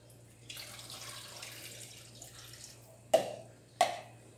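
Two cups of water are poured into a pot of melted papelón for Venezuelan coconut sweets, a soft continuous splashing stream followed by two sharp knocks near the end, with no talking.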